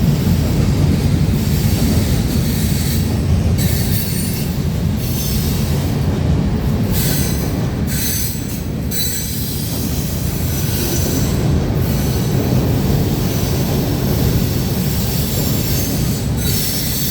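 A CPKC GP38-3 locomotive hauls a train past at close range, with a loud, steady roar of rolling wheels, rhythmic clickety-clack over rail joints and recurring high metallic wheel squeals throughout.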